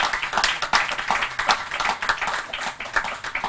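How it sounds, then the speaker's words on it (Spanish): An audience applauds during an open interview with Argentine Air Force nurses, steady moderate clapping from many hands with no talking over it. "Un aplauso, un aplauso."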